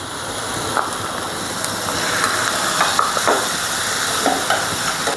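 Chopped onion, green chili and garlic paste frying in oil make a continuous crackling sizzle with occasional spatula scrapes against the pan, close and fairly loud.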